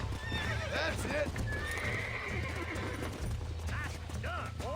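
In the Red Dead Redemption video game, a horse whinnies and snorts as its hooves clip-clop steadily nearby, with a voice speaking over the animal sounds.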